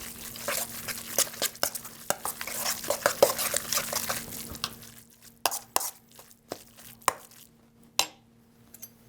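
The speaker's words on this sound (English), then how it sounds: "I'm going to put in a little more and give it a stir" Salted pork rillettes stirred in a pot: a spoon scraping and clacking against the pot in busy close strokes, then slower, sparser knocks and taps as the stirring eases off, no talking.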